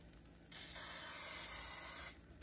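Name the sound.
spraying cooking spray on sandwiches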